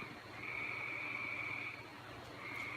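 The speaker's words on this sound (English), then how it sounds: "He's croaking away at us." An outdoor frog gives a sustained croaking trill that breaks briefly and then resumes, faint and somewhat distant in a quiet night setting.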